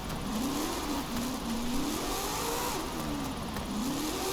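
A car engine in Forza Horizon 5 revs and wavers up and down while all-wheel drifting, its pitch rising and falling through repeated sweeps, loud and close, with no one talking.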